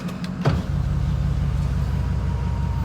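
A parked car's engine idles steadily with a low, continuous rumble, after a brief clunk or click near the start; no one speaks.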